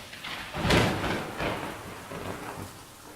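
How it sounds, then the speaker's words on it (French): A violent thunderclap bursts out early amid a storm, a broad rumbling crack that rolls away into steady rain and softer low rumbles. "un violent coup de tonnerre le réveilla"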